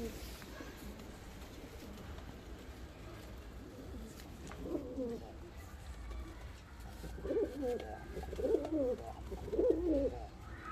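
Fancy show pigeons coo in soft, repeated low calls, close by, with a few rounds of cooing building toward the end over faint background noise.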